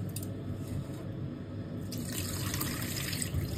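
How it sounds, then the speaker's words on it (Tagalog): Rice is rinsed by hand in water at a sink, with steady running and sloshing water continuing close and even throughout. "Hanggat hindi pa masyadong malinaw ang tubig ay ugasan."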